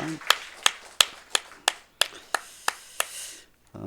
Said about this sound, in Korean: 우리 하나님께 감사와 영광의 박수를 올려드립시다